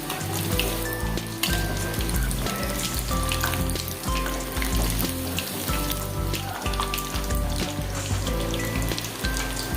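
Pieces of chicken 65 fry in oil over medium heat, giving off a dense, steady sizzle with crackling pops close by and no voices.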